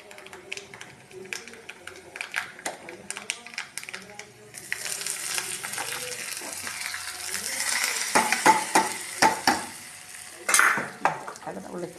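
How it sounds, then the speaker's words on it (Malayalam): Mustard seeds splutter and crackle in hot oil with curry leaves for a Kerala papaya pachadi. The sizzle swells midway into steady loud frying with sharp popping bursts, and a voice talks at the start. "കടുക് പൊട്ടുന്നുണ്ട്. ഇനി കറിവേപ്പിലയും കൂടെ ഇട്ടിട്ട് ഒഴിക്കും."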